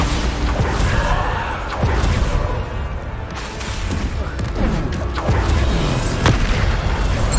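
Bombarda explosion spells in Hogwarts Legacy, loud dense game combat with booming blasts and crackling bursts running continuously over music-like noise.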